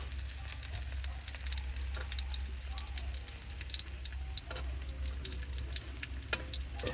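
Food frying in cooking oil in a home kitchen while adobo is being made, a steady close sizzle with scattered pops and crackles, no voices.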